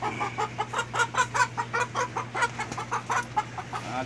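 Hens cluck in a rapid run of short, repeated calls over a steady low hum, fairly close and continuous throughout.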